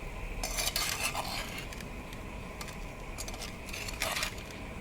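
Mango chutney gets stirred in a hot clay pot, a spoon scraping and clinking against the earthenware in short bursts over a faint background sizzle, close and without voices.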